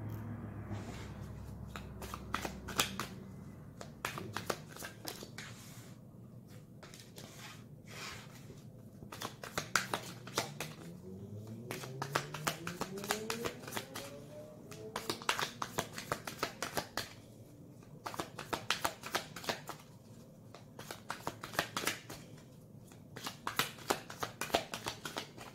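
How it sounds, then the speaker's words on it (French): Tarot cards are shuffled and drawn by hand, a steady run of crisp, close riffling and flicking card sounds with short pauses between bursts, with no talking. "Je tire les cartes"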